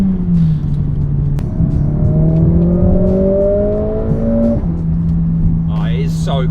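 A Mercedes-AMG A45 S accelerates hard from a standstill at traffic lights, the engine note climbing steadily through a long pull before a gear change drops it and it builds again, loud and close inside the car.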